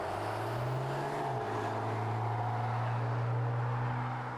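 A Dodge truck with a Banks Sidewinder turbo upgrade drives and accelerates, its engine a steady low drone heard from inside the cab that climbs in pitch, dips briefly at a shift, then rises again.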